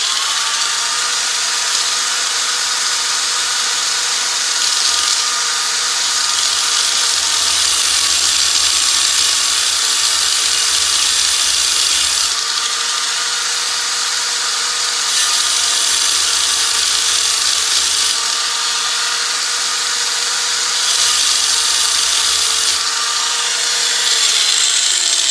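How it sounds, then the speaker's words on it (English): A power tool grinds out stripped headlight adjustment screws on a 1989 Jeep Wrangler, a loud, continuous high-pitched grinding whine that holds steady for the whole stretch with slight shifts in pitch and load. "it only takes a few seconds to grind them out"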